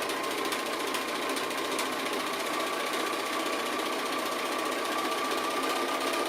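A sewing machine stitching an appliqué runs in a steady, continuous mechanical whir with a fast repetitive chatter, close and constant throughout with no pauses.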